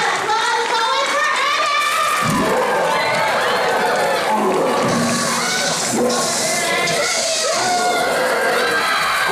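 A live audience at a Halloween Horror Nights horror make-up show at Universal cheers, whoops and claps loudly and continuously, with screams and shouts rising from the dense crowd throughout.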